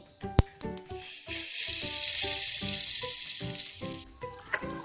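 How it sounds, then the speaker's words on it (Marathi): Tadka for curd chutney crackles and sizzles in hot oil: a dense hiss with scattered pops and spatters, close and steady for a few seconds with no voices. "यावरतीच आपल्याला तडका देऊन घ्यायचा आहे"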